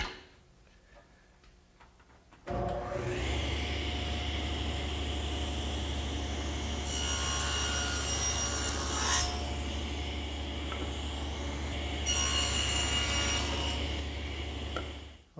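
A hand saw rips through wood making the cheek cut of a tenon, a steady rasping stroke after a quiet start, with two brighter, harsher bursts of cutting partway through, close and loud with no talk.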